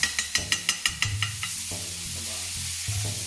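Butter sizzling in a hot pan with a flipped steak, opening with a quick run of sharp rhythmic taps, then settling into a steady close crackle and hiss with occasional soft knocks.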